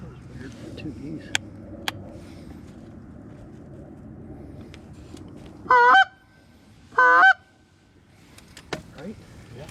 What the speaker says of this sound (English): Two geese.